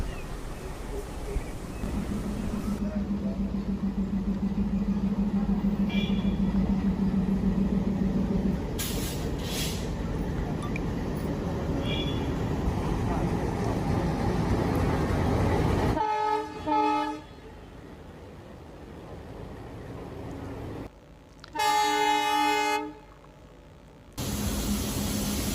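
A light locomotive running as a departmental train on an Indian railway rumbles past nearby with a long steady roar, then gives two loud horn blasts near the end.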